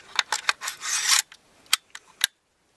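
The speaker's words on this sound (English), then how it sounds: "Remove the bolt, insert a 22 long rifle conversion kit" Metal parts of a .22 long rifle conversion kit sliding into a Vietnam-type rifle, heard as a rasping scrape followed by a few separate sharp clicks and taps, close and alone.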